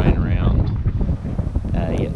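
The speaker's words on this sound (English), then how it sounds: "So it's about 18 or 19 degrees, very windy, a few drops of rain around." Strong wind buffets the microphone in a steady roar on a desert golf course, with a voice faintly present underneath.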